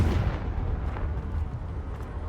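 A Confringo fire spell explodes in Hogwarts Legacy on PS5, a dense, rumbling blast that fills the whole clip with low booming roar.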